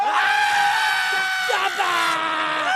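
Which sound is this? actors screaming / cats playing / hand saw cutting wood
actors screaming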